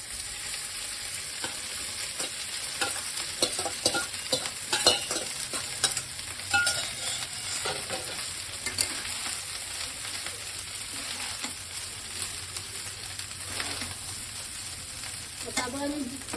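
Cooked rice tossed into a pan of browned fried garlic sizzles steadily while being stirred, with repeated scraping and stirring clicks over a soft, continuous frying hiss.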